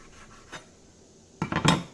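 A knife cutting open a standard hot Italian sausage on a plate, with a faint scrape, then a louder cluster of clinks and scraping of metal against the dish near the end.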